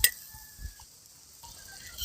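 Cornflour slurry is stirred into a simmering village-style vegetable soup in a pot, with soft, brief spoon scrapes and a quiet bubbling hiss underneath, close and faint, without any talking.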